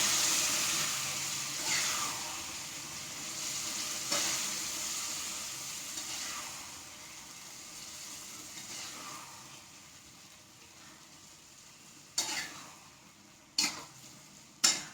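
Tapioca cooking in a pan with added water, giving a soft, steady simmering hiss with faint stirring, then a few sharp pan clinks near the end.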